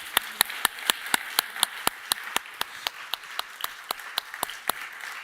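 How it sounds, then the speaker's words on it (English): Clapping at a climate and health financing panel, steady sharp claps in a regular rhythm that sound like only a few hands close by rather than a full crowd. "I would like to invite everybody to join me in a warm applause for our panelists."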